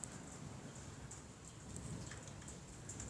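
Heavy rain falling during a thunderstorm in Spain, a steady, even wash of hiss with faint scattered drop ticks, fairly quiet and continuous, no voices.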